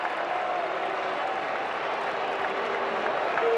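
A crowd at a Cubs vs Royals spring training baseball game reacts with a steady, distant wash of disapproving murmur and noise, even and sustained throughout.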